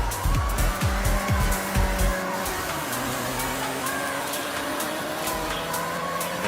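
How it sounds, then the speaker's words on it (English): In the Forza Horizon racing game, a car's engine revs and drops while a tap of the e-brake kicks the rear out, and the tires squeal and skid in a loud, continuous slide. "Just tap the e-brake a little bit to get that back end out, and I'm good."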